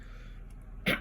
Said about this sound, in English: Let me clear my throat 1 second